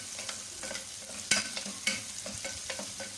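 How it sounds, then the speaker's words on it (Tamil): Small onions frying in a pan for quail gravy, with a soft continuous sizzle and a few sharp scrapes and clicks of a spoon stirring against the metal, quiet and close, no talk. "வெங்காயம் வந்து நல்லா வதங்கணும்"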